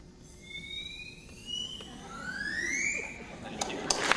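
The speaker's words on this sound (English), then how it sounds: "she demonstrated some properties of sound with the drinking straw" Drinking straw blown as a whistle in a classroom, rising squeaky tones sliding upward in pitch as the straw shortens, faint against room noise with a louder clatter near the end.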